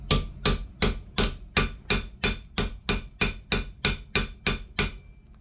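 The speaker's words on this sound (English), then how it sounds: "Hammer crimping, that part is important, so it does not move anymore." A hammer strikes 18 gauge copper wire heart shapes during crimping, about a dozen sharp, evenly spaced metallic taps at a steady rhythm, close and loud with no talking.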